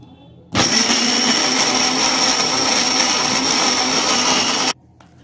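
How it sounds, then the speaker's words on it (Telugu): A blender grinds peanut chutney with a loud, steady whirring roar that begins abruptly, runs for about four seconds and cuts off sharply, leaving near silence before and after. "ఈ విధంగా మెత్తగా గ్రైండ్ చేసుకోవాలి"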